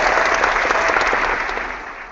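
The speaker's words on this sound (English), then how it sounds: "So everyone gets a clap," Steady group applause for birthdays at a dojo gathering, dense and continuous, fading slightly toward the end.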